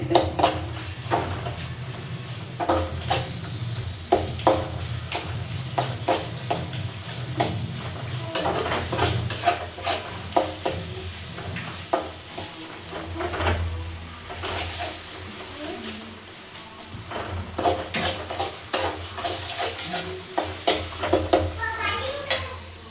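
Tomatoes sautéed for biryani sizzle in a hot pan as a utensil stirs and mashes them, with repeated scraping strokes over a constant frying hiss, close up.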